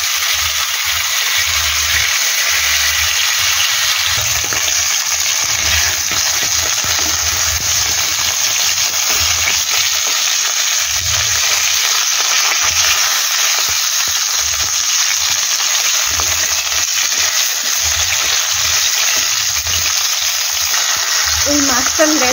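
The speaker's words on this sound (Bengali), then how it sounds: "তো এখন চটপট করে মাছগুলো ভেজে নিই।" Fish pieces frying in hot oil in a pan, a loud, steady broadband sizzle throughout with low scraping or stirring thumps underneath.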